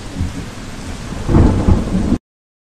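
A loud thunderstorm with heavy rain, a dense steady downpour swelling into a deep rolling thunder rumble midway before cutting off abruptly.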